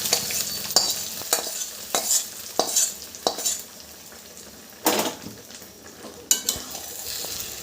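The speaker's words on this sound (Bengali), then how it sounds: "এবার কুমড়ো আর শাকের তরকারির মধ্যে ফোড়নটা ঢেলে দিলাম" Tempering poured into a pumpkin and Malabar spinach curry in a pan and stirred, bright sizzling bursts with repeated spatula scrapes at irregular intervals, close and fairly quiet, no voices.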